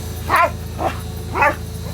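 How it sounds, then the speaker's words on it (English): A dog barks three times in quick succession up at a combine harvester during a West Texas wheat harvest, sharp and close, with a steady low mechanical hum underneath. "Why is he barking up at the combine?"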